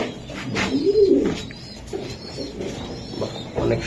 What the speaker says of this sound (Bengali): বাহ, অনেক সুন্দর কবুতর।